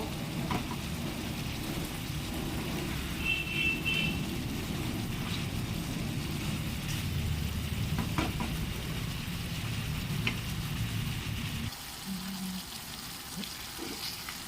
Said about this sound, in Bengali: এটাকে ভালোভাবে কষিয়ে নেব